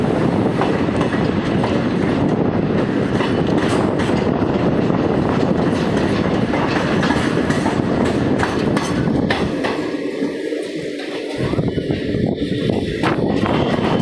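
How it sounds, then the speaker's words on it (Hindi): The Shramjivi Express pulls away from Danapur Junction, a loud, continuous clatter of wheels over rail joints with rhythmic clanks, briefly dipping before the train noise swells again. "चलिए डिपार्चर देख लेते हैं दानापुर जंक्शन से।"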